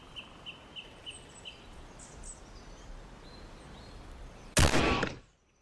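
A gunshot volley bursts loudly and suddenly near the end of a Jurassic Park analog horror scene, cutting through a steady outdoor hiss with faint bird calls, then stopping abruptly into quiet.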